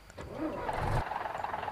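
A heavy Scania K410 IB bus engine in the video game Bus Simulator Indonesia cranks briefly with a starter whine, then catches and turns over into a low rumble, short and close.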